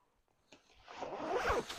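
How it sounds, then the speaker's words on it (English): A winter jacket's front zipper, Vince Camuto or Jones NY, is drawn up in one quick close rasp after a brief quiet start, with no talk. "You can zip this all the way up."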